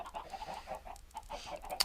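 Chickens being punched in a video game give off a run of short clucking bird calls, fairly close and steady across the moment, with a sharp brighter cluck near the end and no talking.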